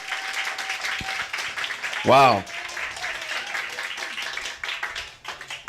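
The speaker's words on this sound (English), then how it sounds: "Let's give her another round of applause" Audience applause at a youth leadership breakfast, a steady patter of many hands running throughout, with a short exclaimed voice cutting in partway through.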